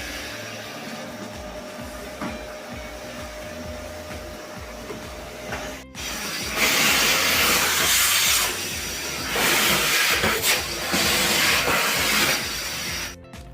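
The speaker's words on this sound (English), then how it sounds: "Vacuum the bathroom, you have to press the brush, then you do the vacuum." A vacuum cleaner works a hotel bathroom floor during room cleaning, a steady whooshing drone that jumps louder after a brief cutoff and surges as the brush head is pushed around.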